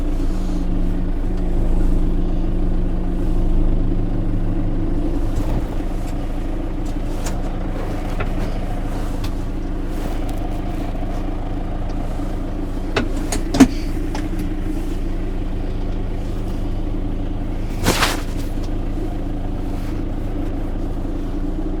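A tractor carrying a bucket of shopping drives through snow, its engine a steady low drone with a lower rumble easing off after a few seconds, plus a couple of sharp knocks later on.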